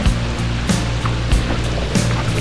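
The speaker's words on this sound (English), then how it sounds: "It's a downpour." A heavy rain downpour pours onto the water around paddlers in kayaks, a close, dense, steady hiss over a low rumbling wash with no pauses.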